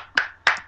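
Two sharp hand claps, evenly spaced and close, ring out alone in quick succession.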